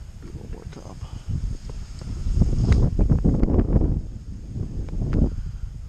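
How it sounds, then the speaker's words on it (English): Gusty wind blowing across a microphone outdoors near a deer feeder during rifle season, rising into loud, rumbling buffets in the middle and easing off, with a person talking faintly at times. "Oh, it's gotten windy."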